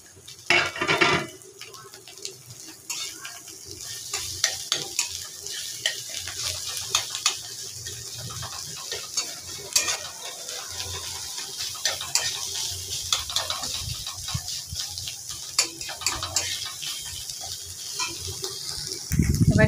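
An egg fries in oil in a pan while a spoon stirs and scrapes against it, a continuous crackling sizzle with clinks of cookware, no voices.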